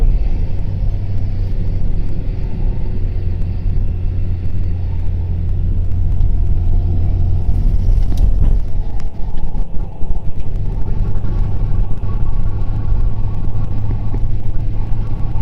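A car engine held at high revs in third gear while crossing the Pag Bridge in a violent bura windstorm: a loud, steady low drone and rumble with wind buffeting that runs throughout.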